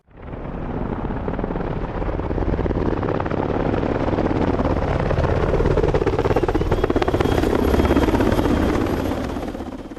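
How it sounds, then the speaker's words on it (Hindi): A helicopter touches down on an open ground at Pahalgam, Kashmir, its rotor and turbine roar loud, close and steady throughout, with a dense thrumming wash and no voices. "23 अप्रैल 2025 को उनका यह हेलीकॉप्टर पहलगाम के उस मैदान पर उतरा"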